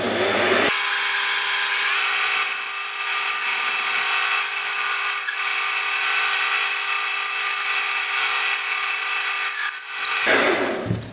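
A lathe turns a bicycle rear axle, taking half a millimeter off, with a close, steady, continuous machining whir that starts abruptly, holds for about ten seconds, then cuts off, with no talking.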